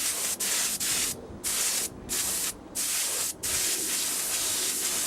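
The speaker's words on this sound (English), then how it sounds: "when you're going to spray a relatively thick coat" A spray gun hisses in several steady bursts, spraying a relatively thick coat of paint, broadband and close, with short pauses between passes.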